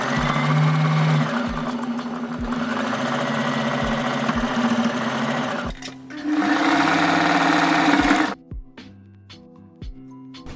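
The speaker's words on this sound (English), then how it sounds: "Alright, now I'm going to sew this part." A sewing machine stitches shorts made from a men's shirt, running in long steady bursts with brief pauses between them. The final part falls quieter with a few sharp clicks.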